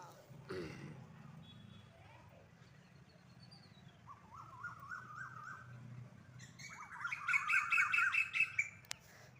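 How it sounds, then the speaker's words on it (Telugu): Birds feeding on fruit in a tree give repeated squawks and short chirping calls, a rising burst of rapid calls near the end, against quiet background murmur and a brief voice-like sound early on. "పైన పిట్టలేమో మంచిగా మరి పండ్లు ఏరుక తినుకుంటా వరులుతూ ఉన్నాయి, కీ కీ కీ అని."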